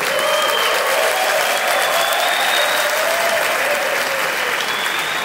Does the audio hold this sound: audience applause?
yes